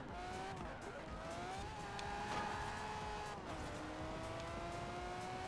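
A high-revving naturally aspirated V12 engine of a Formula Drift Ferrari 599 in Forza Horizon 4 wails steadily, its pitch sliding up and down with gear changes, loud and continuous throughout with no talking.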